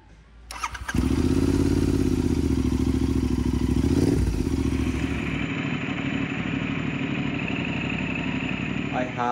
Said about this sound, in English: It doesn't want to start. It sounds like it's trying.